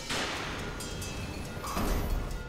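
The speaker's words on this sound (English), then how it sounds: "Yeah, explosion." A bomb blast in the video game Ape Out hits as a dense, loud burst of broadband noise, with a second rumbling swell near the end.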